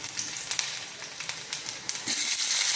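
Garlic and urad dal fry in hot oil, giving a steady, close crackling sizzle with scattered pops that thickens into a denser hiss toward the end; no voices.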